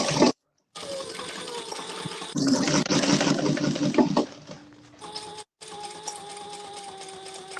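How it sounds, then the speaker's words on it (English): A domestic sewing machine runs in steady bursts while top stitching a seam on a lined garment, its motor whirring continuously with brief pauses and restarts, loud and close with no talk. "I'm just doing my top stitching"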